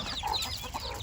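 Young chicks on a farm cluck and peep continuously while being fed, a dense, close chorus of overlapping small calls.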